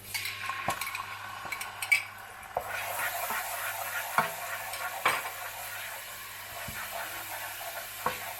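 Yogurt spooned into hot oil in a pan for Kashmiri matsch meatballs sets off a steady close sizzle, with a scattering of clear metallic clinks and scrapes from a spoon against the pan.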